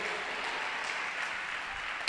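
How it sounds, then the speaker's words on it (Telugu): A congregation claps together at a Christian worship gathering, a dense, steady wash of hand claps that holds for about two seconds before a single sharper clap stands out near the end. "చప్పట్లు కొట్టు."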